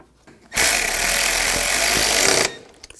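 A power tool drives a bolt into a bracket on a 2004-2009 Audi A4 Quattro during windshield washer pump replacement, one steady close whir lasting about two seconds, with no talk.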